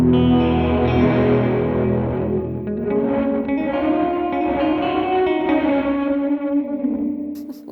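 An electric guitar through an Alexander Space Force reverb pedal rings out in long, dense, distorted reverb trails that swell and wash, loud and close with no voices.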